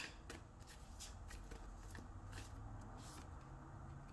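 Tarot cards shuffled by hand during a reading, a steady soft riffling and sliding with a few sharper flicks, close and quiet over a low background hum, no talking.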